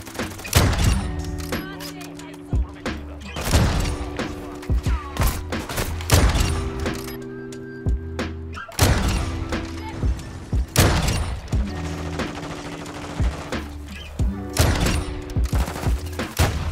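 Rapid volleys of video game gunfire, including sniper rifle shots, crack out in dense clusters with thumping impacts, loud and close, while someone talks and exclaims over the shooting.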